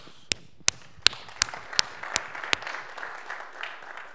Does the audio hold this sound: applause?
yes